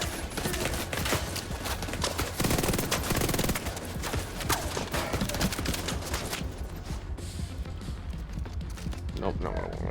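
Rapid automatic gunfire from special weapon ammo in The Division 2, loud continuous rattling bursts with a voice talking over the shooting.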